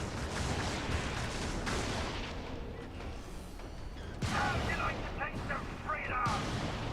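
Gunfire and explosive blasts from a walker's tank gun in the video game Helldivers, repeated heavy booms with mechanical clatter in a dense battle mix, one burst near the middle and louder volleys toward the end, with voices underneath.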